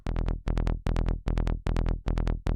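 Synth bass in Reaktor's Vesius with oscillator phase not reset plays a repeating pattern of short, punchy notes in quick groups, each attack sounding slightly different and wavering.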